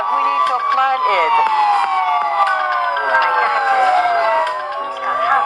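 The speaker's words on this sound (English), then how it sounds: "there's a police car is going to chase us" A police car siren wails continuously and loudly, its tones sweeping up and down in overlapping cycles throughout.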